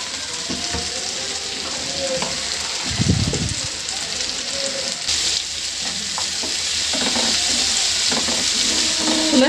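Chicken frying with onion stalks and leaves over medium-high heat, giving a dense steady sizzle with spatula scrapes and clatter, close and fairly loud throughout.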